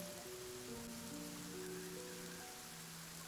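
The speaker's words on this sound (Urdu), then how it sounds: "اچانک بہت تیز بارش شروع ہو گئی" Heavy rain falls at night as a steady, even hiss, held low and constant for a horror story, with a soft sustained musical drone beneath it.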